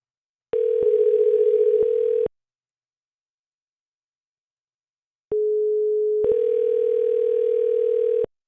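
A telephone dial tone as a call is placed, heard as two steady electronic tone segments separated by a silent gap, loud and clean with no talking.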